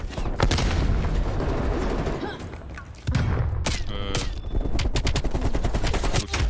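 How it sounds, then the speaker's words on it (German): Grenade blast and rapid gunfire in Call of Duty Black Ops Cold War multiplayer on Nuketown, loud bursts of automatic shots and a sharp thud, dense and close, with game noise throughout. "Granate."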